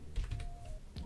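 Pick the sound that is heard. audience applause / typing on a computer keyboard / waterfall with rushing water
typing on a computer keyboard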